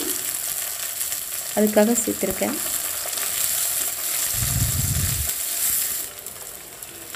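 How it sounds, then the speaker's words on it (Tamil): Garlic, shallots and onion sautéing in oil for a Tamil bitter gourd curry give a steady background sizzle with a few stirring clatters, while a voice speaks briefly over the frying. "பூண்டு வெங்காயம் வதங்கிச்சு."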